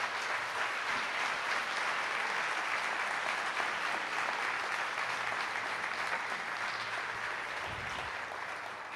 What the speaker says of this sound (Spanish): Dale un gran aplauso al Señor